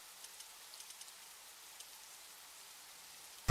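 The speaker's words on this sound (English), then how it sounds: "This rain is harmless to our base, but it decreases solar panel efficiency" Light rain patters softly and steadily on the ground in The Riftbreaker, a faint, even hiss with a few scattered drops, ending in a sudden loud burst.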